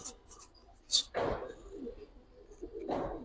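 Black-beaked Kaldom pigeons coo softly nearby, with two or three low, rolling calls spaced a couple of seconds apart among faint rustles and light background voices.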